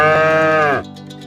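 A cow or bull lets out one loud, close, sustained moo that drones steadily for most of a second before cutting off sharply.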